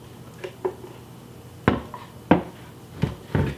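A KitchenAid spatula made for a blender scrapes creamy avocado, artichoke and kale dip from the blender jar, giving a few soft knocks and scrapes spaced a second or so apart, with no voices.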